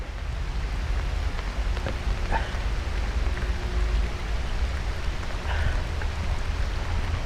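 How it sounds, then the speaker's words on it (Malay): Steady rain falls outdoors around an oil palm tree during a fishing trip for climbing perch, a continuous close hiss with scattered drops and a couple of faint brief chirps, no talk. "Hari dah start hujan geng ha."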